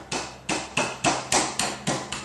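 Eight evenly spaced light knocks with a hand on the wooden arm of a Morris chair, fitting the arm onto the upper side rail, each a crisp close tap with a short decay, no talk.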